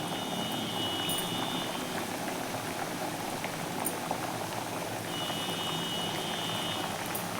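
Round wheat flour biscuits deep-frying in hot oil in a kadhai over a low flame, a constant close bubbling and crackling that runs without a break, with no talk over it.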